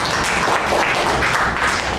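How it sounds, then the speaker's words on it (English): Loud, close applause from an audience at a speakers' club meeting, a dense continuous patter of clapping filling the short stretch alone. "A round of applause for that."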